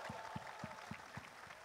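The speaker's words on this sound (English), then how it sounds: "a big round of applause for this army of musicians here" A large gathering of musicians and audience applauds at a distant, faint level, a soft wash of clapping with a steady low rhythmic thump pulsing through it.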